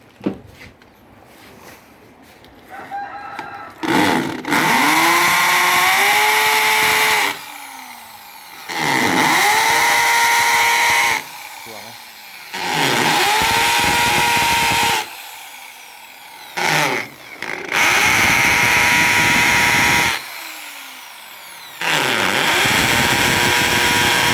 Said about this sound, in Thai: เจาะเข้าไปประมาณเซนครึ่งถึงสองเซนนะครับ